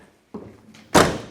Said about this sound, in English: Doors shut nice. Don't have to slam them 2, 3, 4 times.